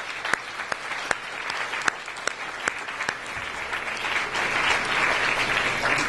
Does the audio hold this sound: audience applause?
yes